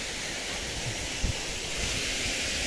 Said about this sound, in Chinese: 哎呀这个瀑布非常壮观呀，非常漂亮